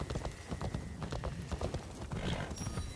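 Horse hooves clip-clop steadily on the ground in Assassin's Creed Shadows on PS5, a brisk repeated rhythm of close, fairly loud footfalls, with a faint whinny and ambient game sounds around them.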